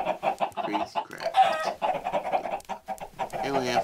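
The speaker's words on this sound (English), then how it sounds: "And I pissed off some chickens. They're so pissed." Agitated chickens from a Minecraft Crazy Craft modpack game cluck repeatedly in quick, choppy bursts, loud and close, with a rising squawk near the end.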